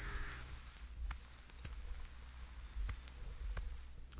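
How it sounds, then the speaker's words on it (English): A LeConte's Sparrow gives a thin, high, buzzy insect-like song at the start, followed by several short, faint, sharp ticks spaced apart over a low background rumble. "Page 231, LeConte's Sparrow."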